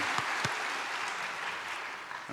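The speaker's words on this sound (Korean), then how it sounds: "하나님께 영광의 박수를 드리겠습니다" Applause from a church congregation during a Sunday service, a steady clatter of many hands clapping for a couple of seconds, fairly loud and with no voices.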